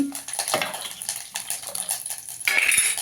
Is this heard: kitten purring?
no